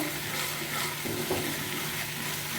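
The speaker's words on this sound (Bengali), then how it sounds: "কাঁচা লঙ্কা আর ধনে পাতার পেস্টটা খুব সুন্দর করে মিশিয়ে নেব" Green chili and coriander paste fries in a pan while being stirred, giving a steady, close, fairly loud sizzle with soft stirring scrapes throughout and no voices.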